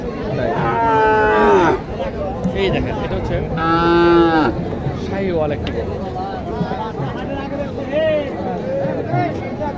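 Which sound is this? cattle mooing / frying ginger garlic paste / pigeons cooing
cattle mooing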